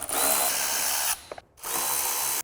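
A power driver removes Torx bolts from a trim panel on a Can-Am X3, sounding as two loud, close whirring bursts of about a second each, with a brief gap and small clicks between them.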